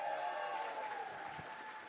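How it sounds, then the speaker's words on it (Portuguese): A congregation at a Sunday morning church camp service claps together, sustained even applause with a faint murmur underneath. "uma salva de palmas"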